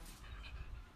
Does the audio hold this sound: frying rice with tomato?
no